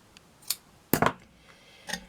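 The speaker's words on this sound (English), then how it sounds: "So I'm just going to cut this into 2." Scissors cutting a piece of fabric for a shabby chic flower, a few crisp separate snips spread across the moment, close and fairly quiet, with no talk over them.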